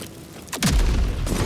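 Trap explosions go off in Baldur's Gate 3, with one sharp blast followed by a loud, rumbling boom and a second crack close behind it.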